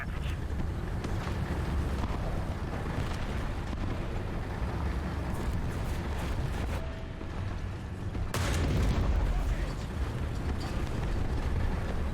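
Tank cannon fire and explosions from War Thunder's M4A1 Sherman with its 75mm gun, a continuous roaring wash of heavy booms and rumble with a louder burst near the end, no voices over it.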